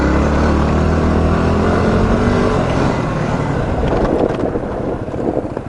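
Small motorbike engine droning while being ridden, loud and close with heavy wind buffeting over the microphone, the engine note steady then fluctuating toward the end.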